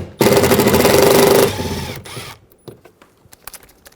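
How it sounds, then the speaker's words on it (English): Phillips head screws being removed from a Toyota Tacoma side mirror, heard as a loud, close mechanical ratcheting whir lasting about a second, followed by softer clicks and taps. "There's two Phillips head screws behind there"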